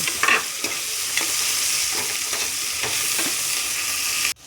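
Mutton curry frying with turmeric in a pan, a steady dense sizzle with occasional stirring scrapes throughout, loud and close, cutting off abruptly at the end.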